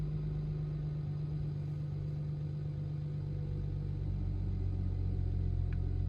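A BMW 335i idling steadily at close range, a low even hum with a faint ticking layer and no revving, heard alone without talk.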